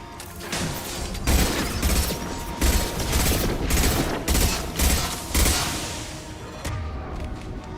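Disruptor-ammo gunfire in the shooter game Mass Effect, loud rapid bursts of shots in repeated volleys with mechanical clatter, fading near the end.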